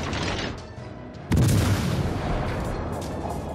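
Cruiser main guns firing in World of Warships Legends, a sudden loud booming salvo that cuts over ongoing game ambience and leaves a rumbling tail.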